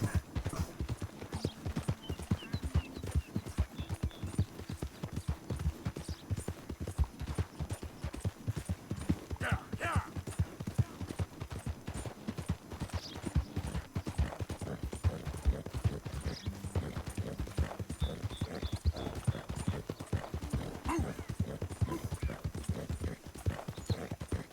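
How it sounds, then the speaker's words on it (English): Horse hooves gallop in the Red Dead Redemption 2 video game, a steady rapid clip-clop that runs through the whole stretch with a brief whinny partway, and some quiet talk over it. "La verdad es que estamina va bien el caballo, lo malo es que no noto que corre mucho."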